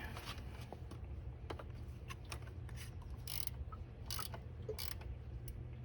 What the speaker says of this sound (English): I'm actually tightening up the nut, so the nuts will give me more clearance as it tightens up